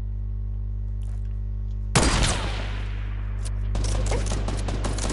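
Video game gunfire starts suddenly as a loud burst with a decaying boom. Rapid crackling shots follow after a pause, over a steady low electronic hum.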